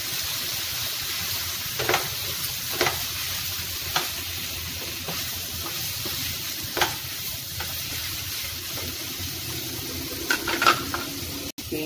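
Prawns and kuey teow noodles sizzle steadily in a hot pan, a continuous frying hiss broken by occasional scraping and stirring clatters from a utensil, close and fairly loud.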